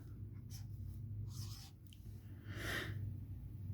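A marker writes a name on a board in scattered faint scratchy strokes, close by, over a steady low hum, with no talking.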